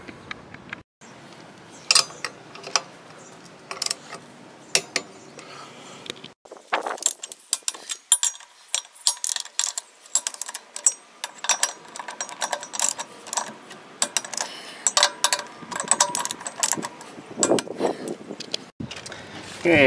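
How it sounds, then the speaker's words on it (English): Ratchet tightening the lug nuts on a travel trailer wheel in a star pattern, with repeated rapid clicking bursts and metallic clinks, loud and close, with a voice talking. "we're going to go and tighten up the lugs here"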